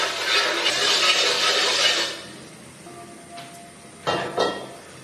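A wok is set over a roaring high flame for suancai fish. A broad burner rush fills the first two seconds, then a couple of sharp metallic clanks of the pan ring out nearby, with no speech.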